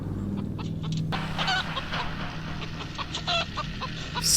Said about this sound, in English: This poor chicken.